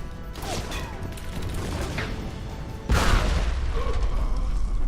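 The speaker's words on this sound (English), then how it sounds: "Explosions." A loud explosion erupts in the shooter game Alpha Protocol about midway, a sudden boom cutting through a dense bed of game effects and rumbling noise that stays louder afterward.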